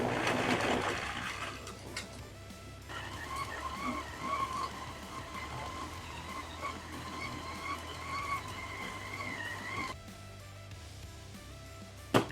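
An inexpensive meat grinder, bought for under 30 dollars, runs while grinding burger meat, giving a steady whining motor hum for several seconds before it cuts off with a knock.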